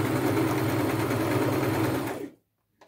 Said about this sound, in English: I've decided to use a zigzag stitch on this.